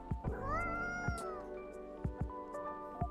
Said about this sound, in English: Oh, this cat is so cute.